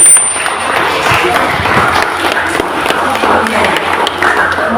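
An audience at a family day gathering claps for a speaker, dense continuous applause with some light taps and murmur, fairly loud throughout.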